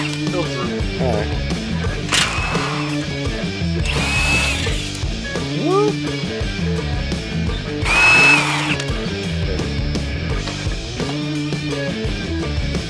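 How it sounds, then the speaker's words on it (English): A power drill works on a Ford Bronco Raptor's control arm bolts in a garage, with repeated whirring bursts under ongoing talk and mechanical clatter. "That would not mess up with my drill and not get stuck."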